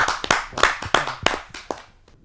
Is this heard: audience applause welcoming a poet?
yes